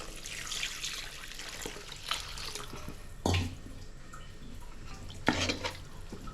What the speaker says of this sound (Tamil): இப்போ இதுக்கு வந்து கிரேவிக்கு தேவையான அளவு தண்ணி சேர்த்துக்கலாம்